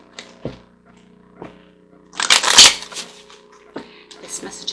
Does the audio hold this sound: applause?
no